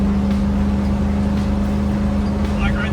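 Ford Bronco on all-terrain tires cruising around 70 miles an hour, a constant low hum of road and tire noise with a steady tone inside the cabin, unbroken throughout.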